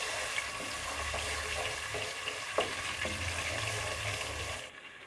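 Whole spices and garlic ginger paste sizzling in a hot pan for a Punjabi-style chicken curry, a steady close frying hiss with light stirring clicks, no talking, stopping abruptly at the end.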